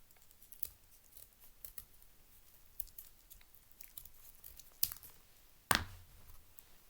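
Scissors snip through folded paper to make paper snowflakes: a string of small, crisp cuts at an irregular pace and one sharper, louder snap near the end, close and quiet with no voices.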